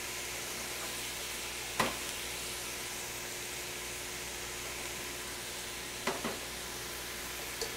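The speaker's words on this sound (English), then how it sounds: "Give it another good stir." Chili cooking in a pot sizzles steadily while a spoon stirs it, with a few brief scraping knocks against the pot standing out from the constant frying hiss.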